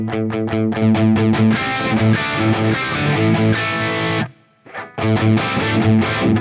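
Loud, distorted electric guitar through a Fractal AX8 boost preset chugs through a riff with a thick boosted tone, pausing briefly before crashing back in.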